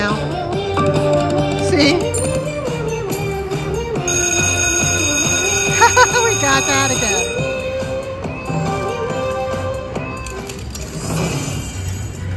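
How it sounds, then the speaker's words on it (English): Meow Meow Madness slot machine bonus round in a casino, its bright electronic jingle with cat meow effects playing steadily and loud throughout, while a person talks over it. "Do you hear that? It's going meow, meow, meow."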